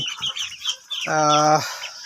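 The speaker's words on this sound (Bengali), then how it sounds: "আজকে আমার খামার থেকে এই চল্লিশ দিন প্লাস বয়সের একশো পিস ফার্মি মুরগি" A flock of about a hundred farm broiler chickens, over forty days old, clucks on a farm, with one loud, drawn-out call standing out over softer scattered clucks and background noise.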